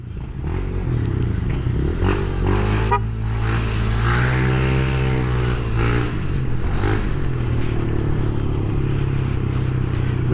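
A Honda Click 150i scooter built to superstock spec revs loudly and close, the engine note swelling and falling in a few rising pulls over a steady rough drone, with no talking.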